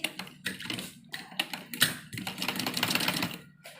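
A sewing machine stitches along the edge of a kurti in quick rattling bursts broken by short pauses, loud and close, with no talking.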